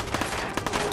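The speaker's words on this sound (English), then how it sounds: "Don't shoot at me, you butt face." Rapid gunfire from the video game Fallout 4 crackles in a dense burst of several quick shots over one second, loud and close.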